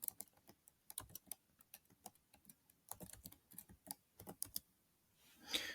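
Someone types an ID card number on a computer keyboard in quick, uneven clicks, close and fairly quiet, with short gaps between keystrokes and a soft rustle at the end.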